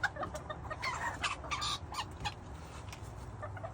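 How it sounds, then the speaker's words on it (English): A flock of backyard chickens clucks in quick, overlapping bursts while crowding around food, close by and fairly quiet, with scattered soft calls tapering off over a few seconds and no talking. "These other chickens want the food."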